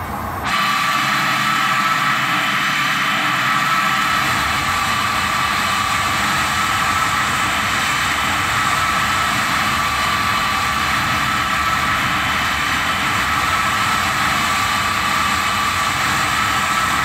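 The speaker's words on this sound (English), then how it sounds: "engines are running" The engines of a C-17 Globemaster III in a flight simulator run as a loud, steady jet whine and rumble that starts abruptly and then holds constant throughout.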